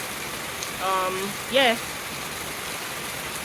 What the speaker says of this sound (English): obviously there's no sunlight because it's raining